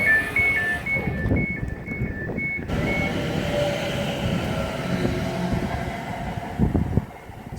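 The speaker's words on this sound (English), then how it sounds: "I am on a London North Western Railway train sat in the declassified first class" Low rumbling hum inside a moving Class 730 electric train approaching Cheddington Station, with faint warbling electronic tones early on, then steady interior motor and track noise.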